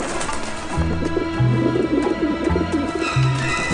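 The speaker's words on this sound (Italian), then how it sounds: "Non mi piace l'aspetto di quei piccioni." Pigeons in the video game Grim Fandango coo in low, repeated throaty calls over a dense, busy game soundscape, with no talk.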